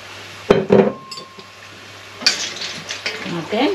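Soup macaroni gets stirred in a pot of boiling water for Filipino chicken sopas, with scraping and clinking of a spoon against the pot in quick bursts over a steady low hum.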